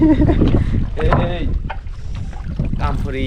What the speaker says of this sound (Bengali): এই যে পরেশ ভাই নৌকা ঠেলছে